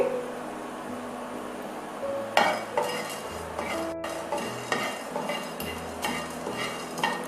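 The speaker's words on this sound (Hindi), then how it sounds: "और इसे हम हल्का सा रोस्ट कर लेंगे। पहले गैस का फ्लेम हम मीडियम रखेंगे।" Whole spices, cinnamon stick and small cardamom pods, dry roasting in a pan over a medium gas flame for Bengali bhaja masala, with steady scraping and clinking of a stirring spoon against the metal pan.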